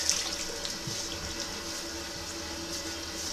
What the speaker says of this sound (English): And I'll just quickly rinse my face,